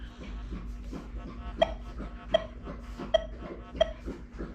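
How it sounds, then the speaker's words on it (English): A dog laps water from a bowl at close range, giving a steady run of soft wet plops and slurps with a few sharper splashy peaks, heard alone with a low background hum. "do you hear the dog drinking water?"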